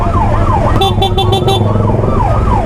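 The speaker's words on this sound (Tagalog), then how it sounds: "Uy, may ambulansya na." A loud ambulance siren wails in rising and falling sweeps over heavy traffic rumble, with a short rapid horn-like pulsing in the middle.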